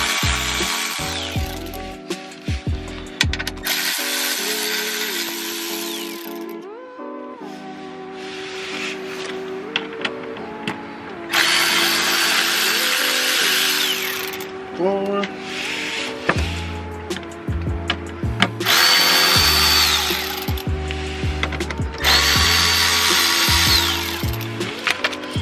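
A power tool works on the screws of a Ford Focus ST motor mount. Repeated whirring bursts of varying length alternate with clicks, ratcheting and metallic handling noises over steady background hum, with no talking.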